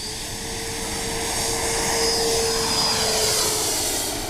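A Taft Valkyrie 90mm electric ducted-fan RC jet takes off from a grass field, giving a loud, steady roaring whine that swells slightly as it climbs away, with no talk.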